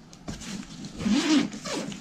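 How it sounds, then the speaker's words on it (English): A zipper on a camera bag compartment is pulled open close to the mic, making a raspy ripping sound in a few short strokes and one longer drag. "This is only a zipper that protects all these items from falling out."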